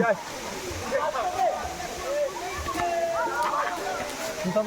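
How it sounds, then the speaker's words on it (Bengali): Ham Ham waterfall rushes and sloshes steadily at a moderate distance while people talk over the flowing water. "আমরা এখন ঝর্ণার উপরে উঠছি।"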